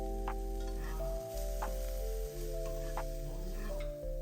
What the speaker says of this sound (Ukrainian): Коли гриби вже просмажились і стали м'якими